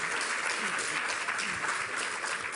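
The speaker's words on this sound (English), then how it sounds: "Please give a round of applause to the panelists" Audience applause for conference panelists and a moderator at a media conference, a steady dense wash of clapping that fills the whole stretch at even loudness.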